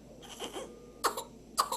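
Three separate harsh coughs from whooping cough (pertussis), faint and close by, each burst short and spaced apart over a quiet background.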